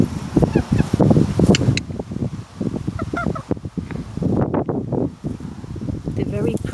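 Small splash bantam chickens cluck and squawk close by, mixed with rustling and a person talking over them.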